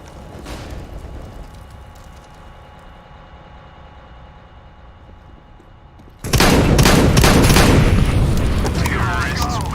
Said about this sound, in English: I'm throwing a grenade! I'm throwing fire! I'm throwing a flashbang!